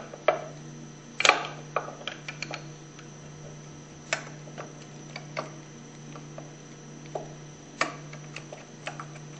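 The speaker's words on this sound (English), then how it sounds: "remove the crankshaft by twisting and pulling it out" Hypro 2400 Series Powerline Plus plunger pump crankshaft being twisted and pulled out, giving scattered metallic clicks and ratcheting knocks over a constant low hum, close and moderately loud, with no talk.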